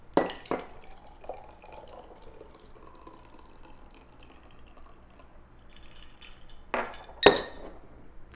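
A freshly shaken cocktail pours from a shaker into a glass as a soft, quiet trickle, bracketed by a few sharp glassy clinks near the start and end, with no talking.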